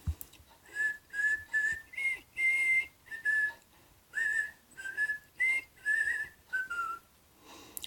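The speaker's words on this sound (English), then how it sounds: "I want to teach you how to whistle using your teeth and your lower lip" A clear whistle made with the teeth and lower lip, played in a series of about a dozen short, even notes with slight pitch wavering, close and alone.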